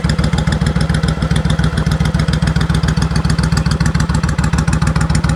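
A 2002 Suzuki Intruder VS1400 cruiser motorcycle, fully customized, idles close by with a loud, steady, rhythmic lumpy thump that holds an even pulse throughout.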